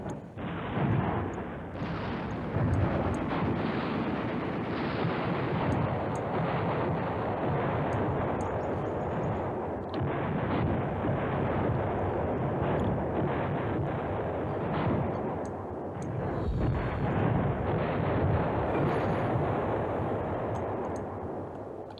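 Continuous rumbling bombardment in the Command Ops 2 war game, a dense wash of overlapping explosions and artillery blasts held at steady volume throughout, with no talking.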